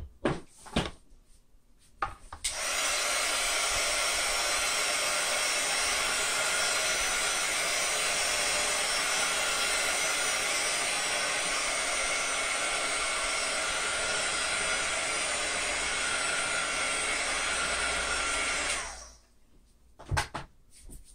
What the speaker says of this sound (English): now I'm going to give that a shot with the heat gun and dry her